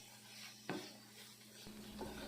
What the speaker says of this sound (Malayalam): അപ്പം ഞാൻ കുറച്ച് വെളിച്ചെണ്ണ ഇട്ടിട്ട് ഒന്നും കൂടി മിക്സ് ചെയ്യാണ്